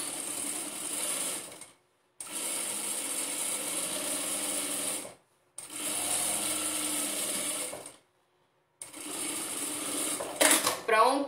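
A sewing machine runs a second side seam on a pencil case in three longer bursts of steady whirring, separated by brief silent stops, ending with a short mechanical clatter.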